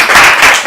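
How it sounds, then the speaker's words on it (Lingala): A class in a Kinshasa music school claps together, a short burst of close, bright applause with a couple of quick swells. "est-ce qu'on peut applaudir?"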